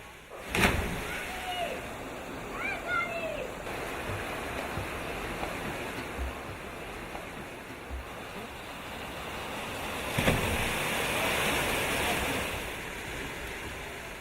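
Mountain waterfalls pour into a clear pool in Karabakh, heard as a steady, fairly faint rushing wash of water with some wind noise, broken by a couple of brief bumps.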